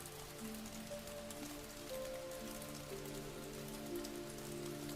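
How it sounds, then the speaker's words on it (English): Steady rain patters on leaves and ground in a forest, an even, unbroken wash of drops running throughout with a low tonal hum beneath. "The rain continued its lullaby"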